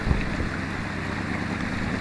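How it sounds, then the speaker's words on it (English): Strong wind buffets at a washed-out river spillway, a constant broadband roar with gusty rumble in the microphone, loud and close, with no voices. "It's really windy too."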